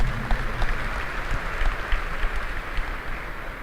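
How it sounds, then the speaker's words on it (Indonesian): Audience applause at a large Isra Mi'raj religious gathering, a continuous wash of many hands clapping at a distance, fairly loud and steady throughout. "boleh berikan tepuk tangan ya"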